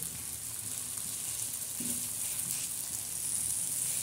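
Dried bombil fish chutney fries in hot oil with a steady, close sizzle and crackle, a continuous hiss that holds at an even level throughout with an occasional soft stir.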